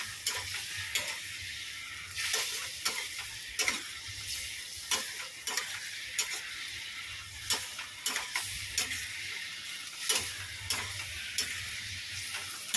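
Vegetable curry stir-frying in a pan, a steady sizzle broken by repeated spatula scrapes and stirring knocks at a moderate level, with no talking.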